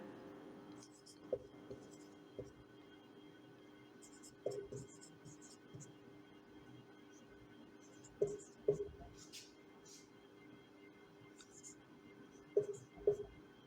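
Chalk or marker strokes on a classroom board come in sparse, faint clusters during a maths lesson, quiet scratches over a low hum with long pauses between them.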